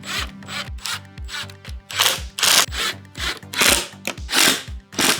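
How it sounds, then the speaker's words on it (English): Screws driven into pocket holes in wooden boards for a French cleat closet shelf, heard as a series of short grinding drill bursts with brief pauses, close and fairly loud, with no talking. "Now we need to drive the screws into the pocket holes."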